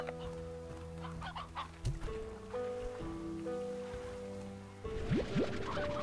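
Rooster clucking and crowing in the video game Slime Rancher, a few short clucks over steady layered game music and ambient tones, with no talking.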